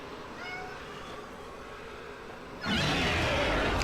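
A cat meows close by in a few short rising calls, followed by a sudden loud burst of broadband noise.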